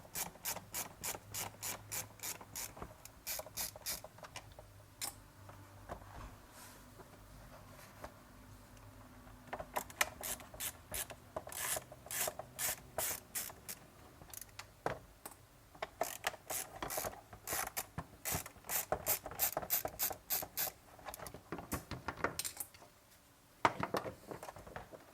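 Screws being backed out of a Ryobi leaf blower's plastic housing, a run of rapid ratcheting clicks in bursts with pauses between, close and moderately loud with no talking.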